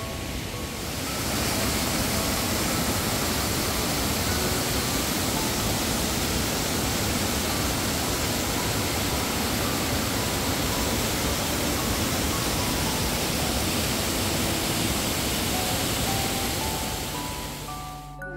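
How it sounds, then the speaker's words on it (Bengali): Elephant Falls at Mattilang Park in monsoon flow: a dense, unbroken roar of rushing water, loud and steady for the whole stretch after a brief quieter start, with no voices. "এই বর্ষার সময় তো ওয়াটারফলসে প্রচুর জল থাকে। এখান থেকে এলিফ্যান্ট ফলসটা খুব ভালো দেখতে পাওয়া যায়"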